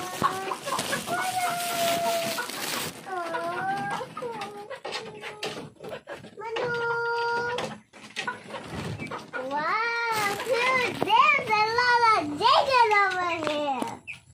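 A chicken clucks and squawks repeatedly up close, with short bursts and a louder run of calls near the end, while people talk in the background.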